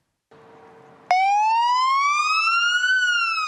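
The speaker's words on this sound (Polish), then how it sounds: "Zawyły syreny pojazdów policji, straży pożarnej i straży granicznej." Emergency sirens of police, fire brigade and border guard vehicles wail together in Opole, Poland, a loud rising tone that starts abruptly after a faint lead-in and climbs steadily.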